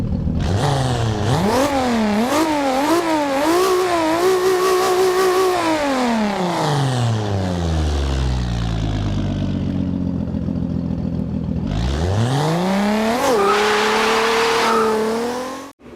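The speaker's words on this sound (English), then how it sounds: "So here's what the Supra sounds like in Horizon 2." Toyota Supra in Forza Horizon 2 revving hard through several quick gear changes, engine note climbing and dropping, then a long falling coast-down before a fresh loud acceleration, with tire squeal mixed in, alone and close.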